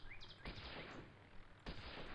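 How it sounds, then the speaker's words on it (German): A shot fired in the Moorhuhn chicken-hunting video game: one sharp crack near the middle, a second a moment later, over steady game background sound with bird-like chirps. "erster Schuss getroffen, sehr schön"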